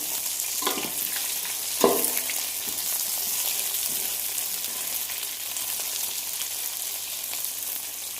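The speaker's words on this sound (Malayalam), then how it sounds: "ചെറിയ ഉള്ളി എല്ലാം ഈ ഒരു പാകമാകുന്നത് വരെ വഴറ്റിയെടുക്കാം." Shallots sauté in a pan for an onion-chili chutney with tamarind, giving a steady, soft frying sizzle throughout with a couple of brief stirring scrapes near the start.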